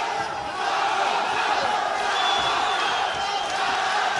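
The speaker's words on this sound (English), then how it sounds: "The crowd are shouting Samanda" A fight crowd at a combat sports bout chanting a fighter's name, a broad rumbling roar of many voices with a commentator talking over it.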